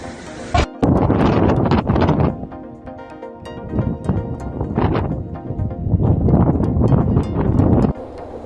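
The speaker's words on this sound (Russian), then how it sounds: "Северо-запад Китая содрогнулся от мощных порывов ветра, эквивалентных урагану, обрушившемуся на город Турфан в Синьцзяне." Hurricane-force wind gusts of up to 130 km/h during a sandstorm on open ground in Turpan, Xinjiang, roar loudly against the microphone in repeated buffeting bursts separated by brief lulls.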